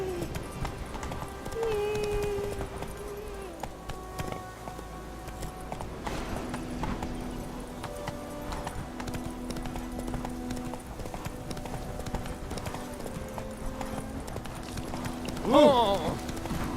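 Geralt's horse Roach galloping in The Witcher 3, a steady drumming of hoofbeats carrying on for many seconds under ambient game sound, with a brief louder burst near the end.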